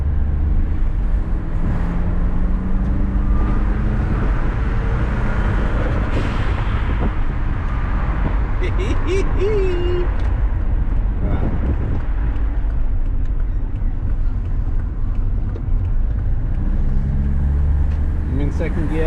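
A twin turbo Subaru car driving in second gear, its steady low engine drone and road rumble filling the cabin with wind buffeting throughout.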